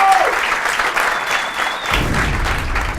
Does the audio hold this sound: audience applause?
yes